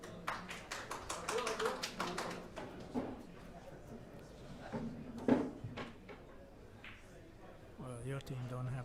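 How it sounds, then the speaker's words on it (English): Spectators at a pool match in Ho Chi Minh City cheering and clapping for player Nelson: a burst of quick, fairly faint hand claps at the start, then fading under commentators' ongoing talk. "Cheers from the crowd for Nelson."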